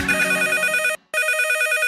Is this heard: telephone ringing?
yes